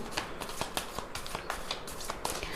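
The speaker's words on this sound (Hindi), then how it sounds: "तो चलिए कार्ड्स निकालते हैं, देखते हैं।" Tarot cards are shuffled and drawn by hand in a quiet room: a rapid series of crisp, close riffling flicks and light slaps repeating about every quarter second, fairly soft.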